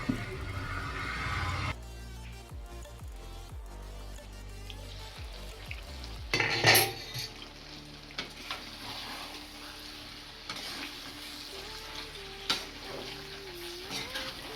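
Chicken varavu, a Kerala-style fried chicken, stirred in a pan over the stove, giving an ongoing sizzle and frying crackle with a few scraping stir strokes and a louder clatter partway through, with a faint background hum.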